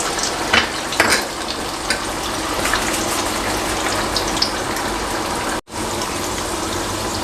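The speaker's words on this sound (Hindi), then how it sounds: "अभी फ्राइज़ को मैं फ्राई करूँगा जब तक ये अच्छे ब्राउन ना हो जाए।" French fries sizzle steadily as they are double fried in hot oil, a dense, continuous bubbling hiss close by with occasional louder crackles and no speech.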